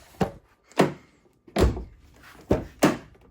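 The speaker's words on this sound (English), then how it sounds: "So if I open" Car door with new wheels, tires and tail lights, opened and shut in a series of five sharp thunks and clunks, close and loud with short gaps between.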